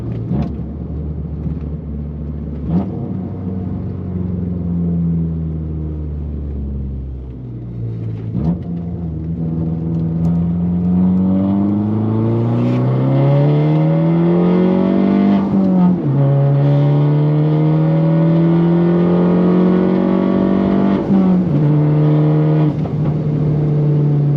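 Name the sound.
car accelerating hard in third gear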